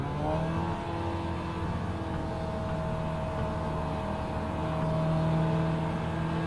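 Race cars at the start of an iRacing sim race, a dense, steady drone of several engines revving and accelerating together with rising engine tones, loud and continuous throughout.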